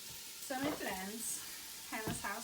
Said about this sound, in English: Sizzle it up.